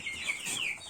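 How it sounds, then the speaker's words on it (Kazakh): Chicken chicks peep in quick, high, overlapping chirps the whole time, close but fairly soft, with no talking. "балапандар осы"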